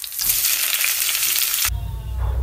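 Lamb cooking with tomatoes in a pan, a loud, dense sizzle that drops off abruptly near the end into a low rumble.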